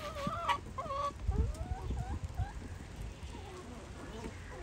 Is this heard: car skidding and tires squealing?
no